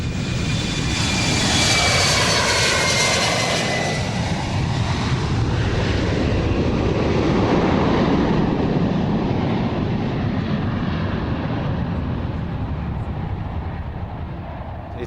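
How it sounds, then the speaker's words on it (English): Embraer 170-190 family regional jet prototype flying at the Farnborough Airshow, a loud sustained engine roar that sweeps past with a falling whine, steady and close throughout with no talk. "From a giant of the skies to a more modest regional aircraft, from Brazilian company Embraer."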